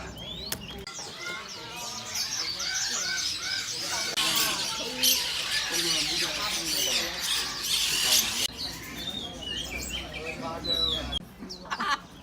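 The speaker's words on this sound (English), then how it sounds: "We're gonna check out the bird market." Caged birds at a Hong Kong bird market chirp and tweet in a dense, continuous chorus, with bursts of squawking and people talking nearby amid busy crowd noise.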